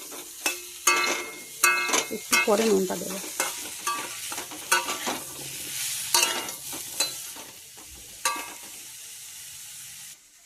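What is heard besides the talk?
frying spices with fish head in a pan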